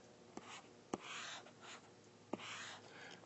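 A pen or marker moves across a board or tablet while an equation is written, making soft rubbing strokes broken by a few sharp taps, close and quiet, with no talking.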